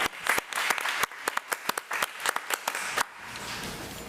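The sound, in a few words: audience applause at a committee meeting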